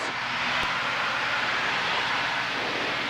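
A small training airplane's engine drones steadily in flight after power is reduced to about 1,500–1,700 rpm, heard as a loud, constant broadband cabin roar with a faint low hum underneath.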